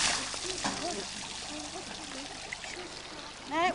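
Water pouring and splashing as a muddy car is washed in a creek after an outback drive, a continuous trickling wash with voices talking over it and a louder splash near the end.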